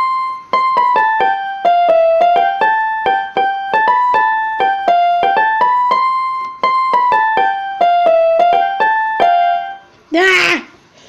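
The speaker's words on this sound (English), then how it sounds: "that was me trying to play the keyboard" A keyboard plays a quick run of bright melodic notes in an uneven rhythm, attempted fast, with a brief vocal exclamation at the end.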